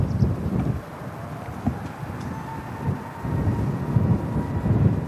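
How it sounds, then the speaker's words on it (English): An airplane begins its takeoff roll at Manchester Airport, a distant, steady roar that builds toward the end over wind-like rumble. "Now starting the takeoff roll."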